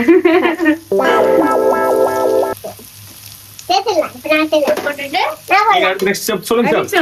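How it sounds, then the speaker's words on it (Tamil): Vegetables such as carrot sautéing in a pan for millet Hakka noodles, a loud sizzle under a person talking, with a sustained tonal music-like passage early on. "இது கொஞ்ச நேரம் லைட்டா வதங்கட்டும், வதங்க பிறகு ஆட் பண்ணிக்கலாம்"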